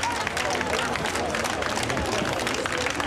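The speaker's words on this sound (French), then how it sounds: "Sur le perron du palais de justice, la foule applaudit son défenseur, Maître Dupond-Moretti." A crowd claps and cheers in a dense, continuous burst on the steps of a courthouse, with a murmur of voices mixed into the applause.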